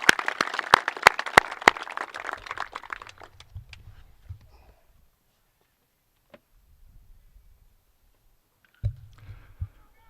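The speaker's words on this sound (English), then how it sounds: "please give yourself one last round of applause" Short burst of audience applause at an outdoor tennis complex dedication, a few sharp claps at first, then thinning out over about four seconds into near silence, with scattered faint rustles and thumps afterward.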